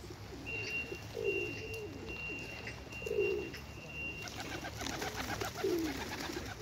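Pigeons coo softly while being fed, a few low rolling calls repeating every couple of seconds over faint outdoor background noise.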